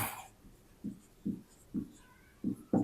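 Short strokes of writing on a board while a math problem is worked out, five soft, evenly spaced scratches in near silence with a louder tap at the end.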